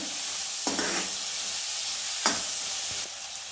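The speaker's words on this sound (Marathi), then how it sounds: "टोमॅटो कांदा सगळं मस्त भाजायचं" Onion and tomato fry together in oil in a pan with a constant sizzle, broken by a few brief scraping stirs of a spoon at regular intervals.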